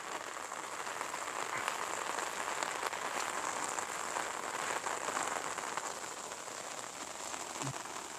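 Steady rain falls on rice paddies, a dense, even hiss of drops with occasional sharper patters, constant and fairly faint throughout without any voices.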